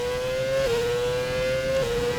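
An F1 car's engine screams in the F1 2017 racing game during a Baku session, a loud, sustained high whine that dips briefly twice as the gears shift, with no talking.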